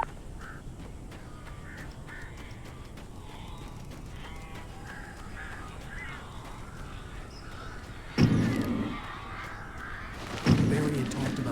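Bird calls in the Alan Wake video game, a scattered run of harsh, crow-like caws heard over a low ambient drone, followed by two sudden louder bursts of flapping and cawing near the end.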